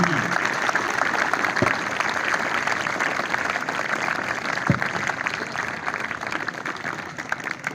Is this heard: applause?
yes